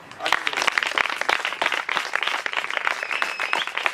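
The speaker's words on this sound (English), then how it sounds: "Clap your hand for yourself" Congregation clapping hands during a Sunday church service, dense rapid claps from many people, loud and sustained across the whole stretch with a faint tone lingering underneath.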